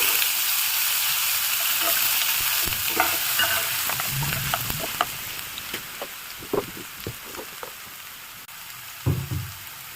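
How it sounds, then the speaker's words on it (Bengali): Small diced potato pieces fry in oil with a dense, close sizzle that slowly eases off, broken by scraping stirs and clinks of a spatula against the pan. "এই একই তেলে আলু দিয়ে দেবো, ছোট ছোট করে টুকরো করা আলু"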